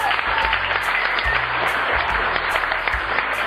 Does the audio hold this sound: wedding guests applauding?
yes